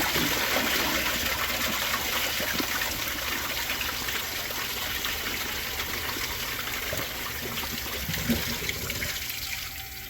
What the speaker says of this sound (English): I will be right back and I will try a second flush.